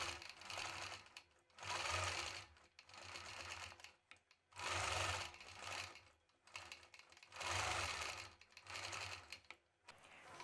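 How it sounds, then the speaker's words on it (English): A sewing machine ruler-quilting a basket quilt runs in steady bursts of fast mechanical stitching, four separate runs with brief pauses between, loud and close with no talking. "The only measuring I'm doing is as I'm quilting with my ruler."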